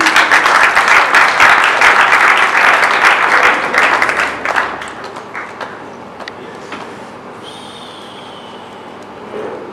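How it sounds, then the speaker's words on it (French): A crowd at a Congolese national student union president's investiture ceremony breaks into loud, sustained applause, dense clapping that gradually thins and dies down to scattered claps and faint room noise. "On peut acclamer, s'il vous plaît"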